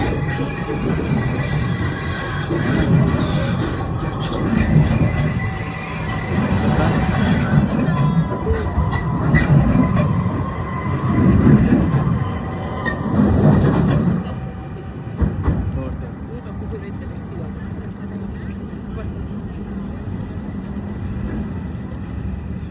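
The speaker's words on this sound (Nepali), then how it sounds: "पोर्टोको चाहिँ मेट्रो गइरहेको यो भाइरल पुलमा आइरहेको" A metro train in Porto, Portugal, rumbles steadily across a bridge with rolling wheel noise and occasional squeals, while a crowd murmurs nearby.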